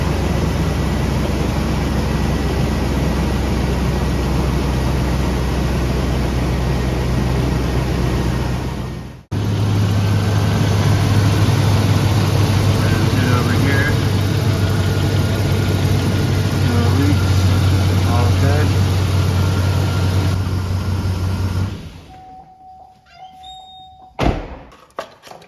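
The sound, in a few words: GMC 5.3 V8 engine idling after exhaust repair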